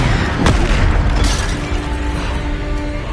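Bombarda explosion spell in Hogwarts Legacy, a loud, sudden booming impact early on followed by a sustained rumble and a second burst, tailing off into a lingering hum.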